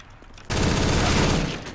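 Negev machine gun fire in a competitive shooter match, a sudden loud dense burst of rapid rattling shots that starts abruptly after a quiet moment and keeps going steadily to the end.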